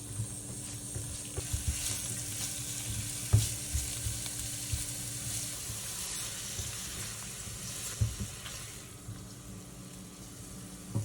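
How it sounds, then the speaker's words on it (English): Vegetables and spring onions sizzle steadily as they stir fry in a pan for chicken chow mein, with occasional knocks and scrapes of a utensil; no one speaks. "Stir fry for 1 minute to get the aroma."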